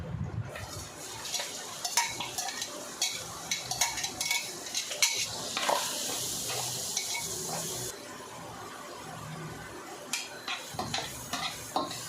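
Ground meat and spaghetti sauce cooking in a pan, with steady stirring scrapes, utensil clinks against the pan and a soft sizzle running throughout at close range, with no talking.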